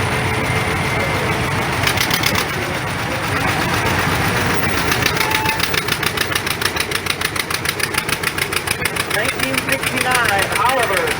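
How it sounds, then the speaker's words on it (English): A 1955 John Deere Model 50 tractor runs in an old engine show parade, its two-cylinder engine thumping in a steady rhythmic chug under an announcer's amplified voice. "Into 1955 John Deere Model 50, Richard Nickerson from Kingsley."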